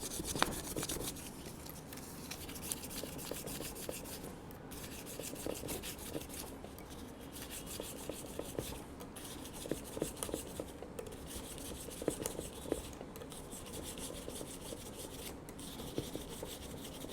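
A guitar body is hand-sanded with a worn piece of 1500 grit sandpaper, faint soft rubbing strokes repeating in a steady back-and-forth rhythm, quiet and close, with no talk.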